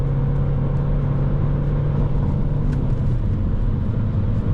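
A 2007 Volvo C30 2.0D diesel car accelerates hard on a German autobahn, with a steady loud cabin rumble of engine and road noise and no talking.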